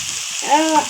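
Tomato, onion and chili pepper fry in a pan with a steady, close sizzle, and a brief faint squeak rises over it near the end.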